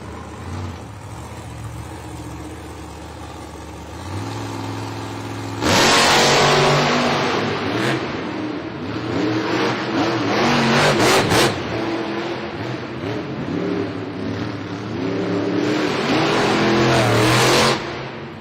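Monster trucks Zombie and Megalodon race in an arena, their big engines roaring and revving hard, surging loud in waves with heavy acceleration bursts throughout.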